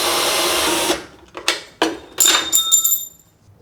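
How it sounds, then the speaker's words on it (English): A power drill backs long screws out of the main control board of a GE Profile washer, with short bursts of whirring and metallic clicking separated by pauses. "we're gonna use a drill and we're gonna remove this screw right here"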